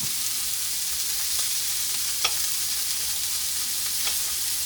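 Steady sizzle of steak frying in a pan with butter, rosemary and garlic, a continuous bright hiss with a few soft clicks and taps of a utensil, no voices.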